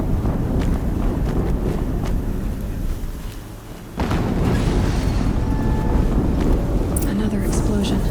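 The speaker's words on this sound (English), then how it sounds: "Another explosion." Deep booming explosions in the video game Horizon Zero Dawn, with heavy rumbling blasts and rushing wind-like noise filling the scene, one sharp burst standing out midway, loud and close.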